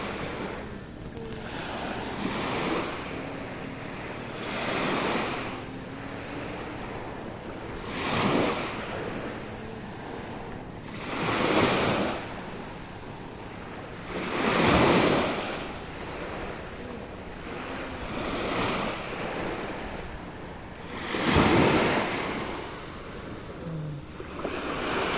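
Sea waves roll in at the Dauin seaside in Negros Oriental, each surge building and breaking in a slow rhythm about every three to four seconds over a steady wind-blown rush, with no voices.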